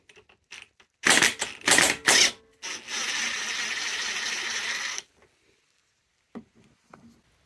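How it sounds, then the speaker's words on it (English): A ratchet fitted with a 13/16 socket loosens the spark plug on a Honda-engined lawnmower: a few short bursts of rapid clicking, then one longer steady run of ratcheting up close, followed by quiet with faint taps. "So let's get the spark plug out, which is a 13/16"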